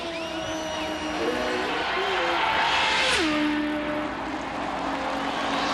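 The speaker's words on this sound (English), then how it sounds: "Chris Mears as Rick runs the straightaway" An Indy race car screams down the straightaway at the 1991 Indianapolis 500, a loud sustained engine whine rising and falling in pitch over crowd roar and commentary.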